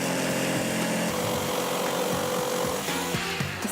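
A power tool whines loudly and continuously as it cuts through fiberboard, with the pitch shifting slightly near the end of the cut.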